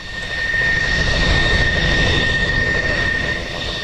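An F-14 Tomcat jet at Opa Locka Airport gives a loud, steady roar with a high whine running through it, swelling slightly and then easing over a few seconds, with no voices.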